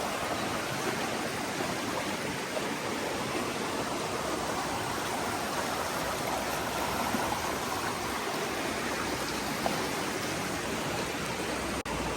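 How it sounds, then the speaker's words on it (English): Stream water flowing along the Appalachian Trail near a footbridge, a steady, even rushing hiss that holds at constant moderate loudness throughout, with no voices. "Beautiful water."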